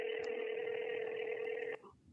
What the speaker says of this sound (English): We're going to go ahead and try to get her on the phone here.